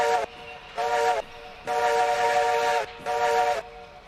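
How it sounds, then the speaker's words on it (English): A steam train whistle in a train video game sounds loud and close in repeated blasts: the tail of one, then a short one, a long one and another short one, with brief gaps between them. "Whistle."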